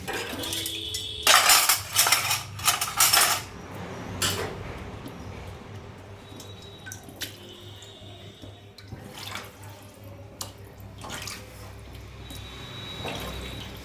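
Dishes, pots and pans being washed at a kitchen sink: loud metallic clatters and scrapes come first, then running tap water and scattered clinks of cutlery and utensils being set down.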